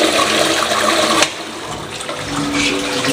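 A toilet flushes in a home bathroom, a loud, close rush of water that surges at first and then settles into a steady draining and refilling hiss.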